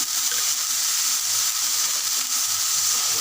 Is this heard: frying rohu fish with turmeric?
yes